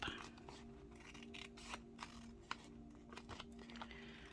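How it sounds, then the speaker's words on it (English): Scissors trimming leftover paper pad scraps, close and crisp, with a series of irregular snips and light paper rustling between the cuts. "I am just going to trim down this side to open this side up"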